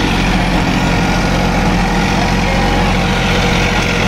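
Massey 5245 46HP tractor driving a deluxe rotary tiller in low gear, a loud, steady diesel drone with a constant low rumble and mechanical churning close by, no voices.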